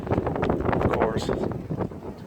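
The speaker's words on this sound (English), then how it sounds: "just had a big gust of wind there" Wind buffets and roars across the microphone in a steady rushing blast, loud and close, with faint rustling underneath.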